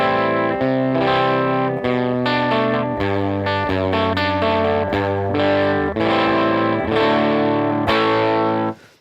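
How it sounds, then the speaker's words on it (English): Electric guitar through a Headrush pedalboard's Tweed Deluxe amp model with a Fender-style tone, playing rhythmic strummed chords with slight breakup, steady and loud with no talking. "I'm going to go to amp, a Tweed Deluxe."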